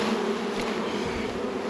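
Honey bees buzzing around an opened hive, a dense, steady, close swarm drone with no pauses.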